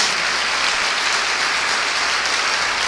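Church congregation applauding during a sermon, a dense, even roar of clapping that stays loud and unbroken throughout, with no voices standing out.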